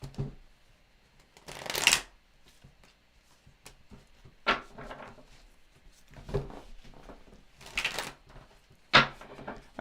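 Tarot cards shuffled close by in several separate bursts, each a brisk papery riffle, spaced a couple of seconds apart with quiet between.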